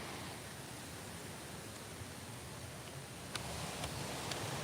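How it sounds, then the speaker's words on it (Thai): Tad Kuang Si waterfall in northern Laos near Luang Prabang, a dense, even roar of falling water filling the scene without a break, with no voices. "นี่คือน้ำตก ตาด กว้างซี ซึ่งเป็นน้ำตก ตาด ที่ งามที่สุดอยู่ทางลาวเหนือ"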